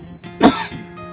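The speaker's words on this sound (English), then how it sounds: "And now comes the coughing." A single harsh cough, close and fairly loud, with a faint throat sound just before it and a short breath after.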